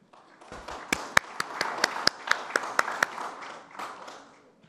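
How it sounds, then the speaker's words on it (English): Sparse, distinct hand claps from a small audience at a business conference address, a dozen or so sharp individual claps in an irregular run over softer background clapping, fading out after a few seconds. "he deserves a big applause"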